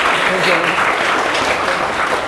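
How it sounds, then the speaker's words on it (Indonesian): Studio audience of a Ramadan health talk show applauding on cue, a steady dense wash of clapping filling the whole moment with faint voices mixed in. "Tepuk tangannya boleh?"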